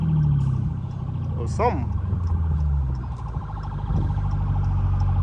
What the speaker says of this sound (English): I hear a police siren. Oh, that's the paramedics.